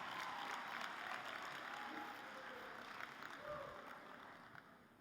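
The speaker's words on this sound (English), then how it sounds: "Go ahead and applaud again." Graduation ceremony audience for a high school class of 2022 gives broad, sustained applause that fills the hall evenly, then gradually thins and fades.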